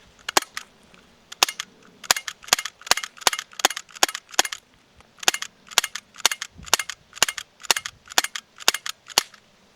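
Rapid BB pistol shots fired at a pumpkin, a long run of sharp snapping cracks in quick irregular bursts, close and loud with brief pauses between groups.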